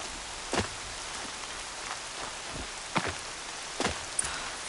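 Rain in the video game Horizon Zero Dawn, a steady soft hiss of falling water with scattered sharper drops and splashes standing out at intervals, fairly quiet and with no talking.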